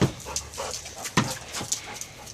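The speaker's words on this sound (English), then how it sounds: "Here's our big dog, Chloe." Chloe, a big dog, moves close by with soft panting, snuffles and small whimpering sounds in short irregular bursts.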